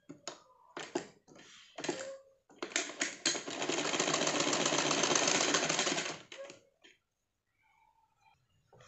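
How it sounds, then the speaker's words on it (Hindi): Sewing machine running a steady stitch along a cushion cover seam for a few seconds, loud and continuous, with short bursts of starts and handling before it. "ये जो ऊपर के तरफ है वहाँ पे सिलाई लगाएंगे।"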